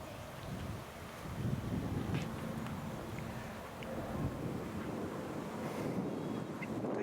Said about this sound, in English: Wind's picking up a bit now